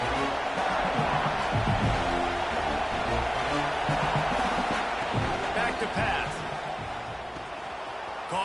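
A big stadium crowd in the College Football 26 video game roars and cheers steadily in the background, while commentators talk over the noise throughout.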